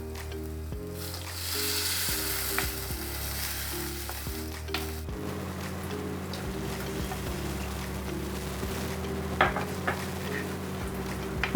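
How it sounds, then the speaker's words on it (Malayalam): Water goes into a simmering Kottayam-style fish curry masala, giving a loud, continuous sizzle and bubbling that carries on throughout, broken by a few brief clinks and shifts as the pan settles. "ഒരു 3 ഗ്ലാസ് വെള്ളം ഒഴിച്ചു കൊടുക്കാം."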